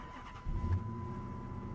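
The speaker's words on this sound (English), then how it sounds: "Car starts." A Chrysler 300C engine starting, a short cranking burst followed by the engine catching and settling into a steady, low idle, heard close with a constant electronic tone in the background.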